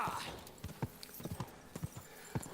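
Horse hooves in the medieval video game Kingdom Come: Deliverance II after spurring, a quick irregular clip-clop of hoofbeats over a low ambient background, fairly close.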